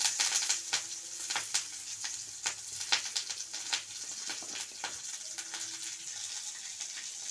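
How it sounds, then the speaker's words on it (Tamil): Onion and curry leaves crackle and sizzle in hot oil with cinnamon and poppy seeds, a close, even frying hiss broken by repeated scraping stirs. "இப்போ வெங்காயம், கருவேப்பிலை சேர்த்துக்கலாம்."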